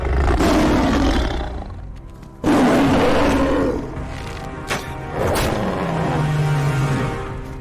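A tiger roars on a cliff edge in a drama scene, sending out several loud, close, rasping roars that surge and fall, with a lower growling rumble trailing off near the end.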